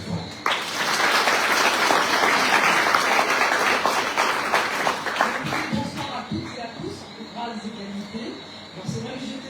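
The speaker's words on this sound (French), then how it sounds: "on va l'applaudir très très fort." A crowd applauding loudly at a Tour de Guadeloupe 2024 team presentation, dense clapping that swells and holds for several seconds before thinning out as a voice takes over.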